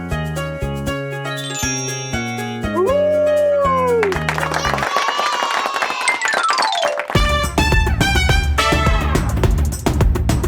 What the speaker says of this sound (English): The wolf says, howl, howl.